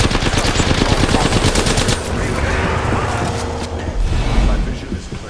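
Rapid automatic gunfire in a shooter video game, loud sustained bursts rattling almost without pause, with a voice speaking faintly beneath the shots.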